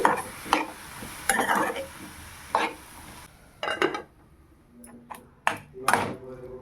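Spinach, tomato and green chillies are stirred in oil in a pan. A spoon clinks and scrapes against the metal in several separate strokes over a faint sizzle, with quiet pauses between.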